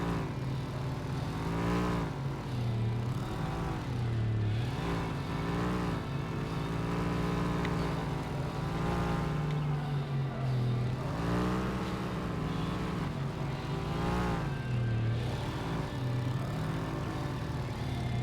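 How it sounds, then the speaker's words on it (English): A garbage truck engine in American Fugitive drones steadily and loudly throughout, its pitch swelling and dipping slightly as the vehicle keeps moving, with no voices. "Boy, this garbage truck has not stopped yet."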